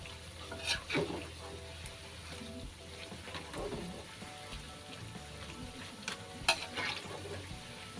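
Fish cake snack strips sizzle in hot oil while being stirred and turned, with occasional scraping clatters and crackles over a constant frying hiss.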